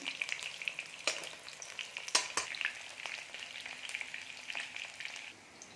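Bitter gourds (karela) fry in a pan with a continuous crackling sizzle, scattered sharper pops and occasional stirring scrapes, steady and close, with no talking.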